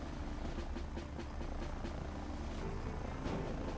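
Supply helicopters whir in the strategy video game Earth 2150, a steady loud rotor and engine drone that fills the scene without pause or speech.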